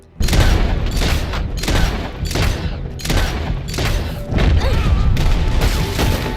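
Heavy gunfire from the O'Driscoll gang ambush in Red Dead Redemption 2, rapid overlapping shots in loud continuous volleys with brief lulls, close and intense.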